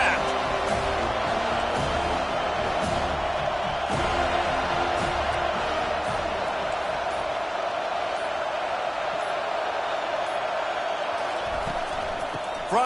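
Football stadium crowd at a college game keeps up a steady, loud roar of cheering and noise throughout, continuous and dense with no breaks.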